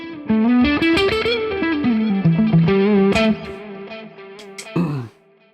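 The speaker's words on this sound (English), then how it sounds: "That's like just like an edge of breakup sort of sound I got" Electric guitar with a slightly crunchy, edge-of-breakup tone plays a melodic phrase with chords, ringing out and then stopping abruptly.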